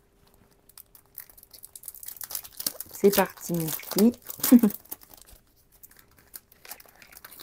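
Die-cut scrapbooking packets are torn open and their plastic packaging crinkles in bursts of rustling and tearing, close and fairly loud, while someone talks over parts of it.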